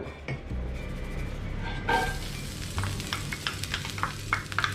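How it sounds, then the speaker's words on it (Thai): Sliced garlic and shallots, 60 and 55 grams, are stir-fried in a pan over a steady sizzle, with a metallic clink, then scraping stirs and repeated clinks of utensil against pan. "นำกระเทียมกับหอมแดงนะครับ มาคั่วเลยครับเพื่อน"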